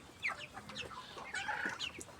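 Broiler chickens cluck in soft, scattered calls over a quiet background, without any talking.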